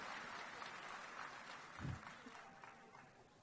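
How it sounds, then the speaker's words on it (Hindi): Applause from an audience at the Maithil Samanvay Samiti 2017 gathering, welcoming a guest onto the stage: a steady wash of clapping throughout, with a brief louder swell near the middle. "जोरदार ताली से हुनकर स्वागत करी।"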